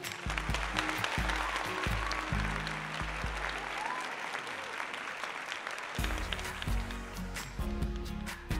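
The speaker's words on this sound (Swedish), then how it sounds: "En applåd för doktor Nemu." A crowd applauds steadily for several seconds over loud rhythmic music, clapping dense and continuous throughout.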